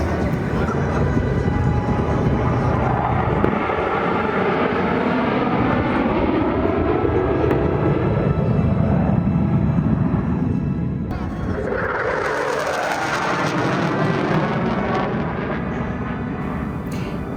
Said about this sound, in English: are the Thunderbirds coming with their epic performance.